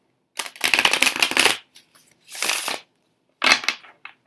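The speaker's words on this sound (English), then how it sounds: "this deck is a delight to shuffle" Orisha Tarot cards are riffled and bridged in three crisp bursts of rapid flutter, close and clear, separated by short pauses with no talk.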